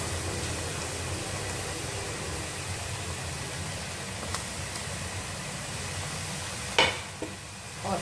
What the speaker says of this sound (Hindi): और इनको अब मैं करूँगी फ्राई